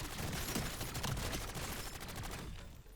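A pack-a-punched legendary LMG fires in a continuous, fast stream during a late round of Black Ops 7 Zombies, a dense rattling roar held at moderate level before tapering off at the end.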